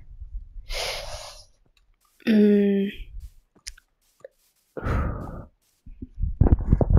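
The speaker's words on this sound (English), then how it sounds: "Sorry for breathing into the mic really loudly." Loud breathing straight into a microphone: a few heavy exhales and sighs, one with a voiced groan, set apart by silences, with soft clicks and some mouth noise near the end.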